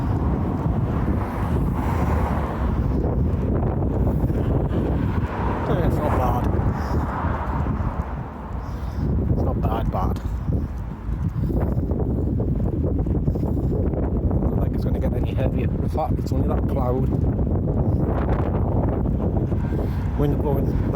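Strong wind buffeting the microphone during a walk in the rain, a continuous loud roaring gust noise with brief dips, while people talk intermittently underneath.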